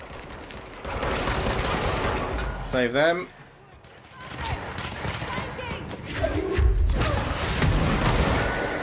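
Scattered video game gunfire from Control crackles through the background while a person speaks over it, with a brief lull midway before the shooting resumes.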